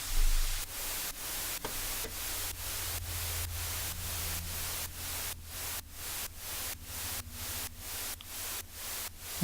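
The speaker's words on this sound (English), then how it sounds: "So it's just kind of one long white noise that's automating a lot." Long automated white noise sweep in a prog house track, a steady broadband hiss chopped into rhythmic pulses that swell and dip in level across the whole stretch, alone and loud.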